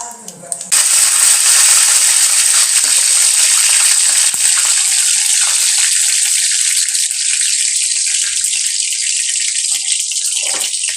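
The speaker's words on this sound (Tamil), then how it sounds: "முதல்ல ஆயிலை ஊற்றிக்கலாம். அதுக்கப்புறம் கொஞ்சம் சோம்பு போடுவோம்." Fennel seeds hit hot oil in a pan for pepper chicken, giving a sudden loud, steady hiss and crackle that stays strong throughout and thins slightly near the end.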